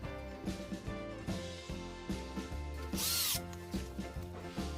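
A Ronix 8018 cordless drill running with a pulsing, rhythmic motor whine and a brief high-pitched squeal partway through, close up with no talking.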